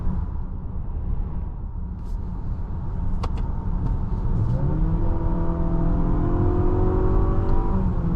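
A 2025 Infiniti QX60 Luxe AWD accelerating, heard from inside the cabin as a steady engine drone that climbs in pitch while road and wind noise hold underneath, with no talking.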